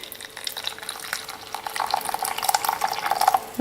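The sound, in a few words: pouring boiling water from kettle onto orange jelly cubes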